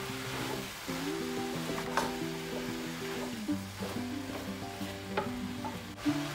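Meatballs, buckwheat and eggplant fry in a pan and are stirred together, giving a steady close sizzle with scraping stir sounds and a soft musical background.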